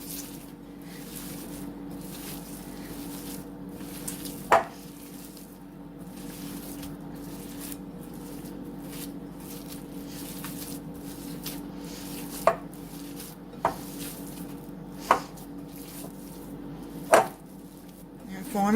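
Hands work a seasoned meatball mixture for cheese-stuffed meatballs, giving soft squishing and kneading under a low hum of a kitchen, with a few sharp knocks scattered throughout.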